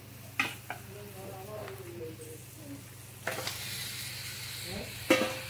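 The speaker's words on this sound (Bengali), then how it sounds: "দেখো এবার মাংসটা দিয়ে ভালো করে নাড়বো" Goat mutton sizzles in a pan of fried spice masala with ghee while a utensil stirs it, scraping and clinking against the pot in a few sharp bursts over a steady frying hiss.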